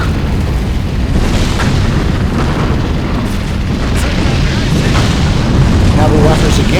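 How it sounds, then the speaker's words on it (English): Bombard artillery firing in the World War II strategy game Sudden Strike 3, German campaign, heard as a continuous dense rumble of booms and explosions with battle noise throughout, loud and steady across the clip. "we're going to hit it again, and we're going to use the bombard too"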